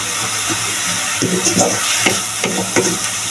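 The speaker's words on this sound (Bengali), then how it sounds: "আর এখন লাল শাক রান্না করতেছি" Red amaranth greens (lal shak) stir-fried in a pan, a steady sizzle broken by several scraping stirs of the spatula, close and fairly loud with no talk.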